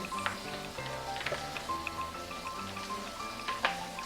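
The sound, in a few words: water rinsing brine off corned beef brisket over sink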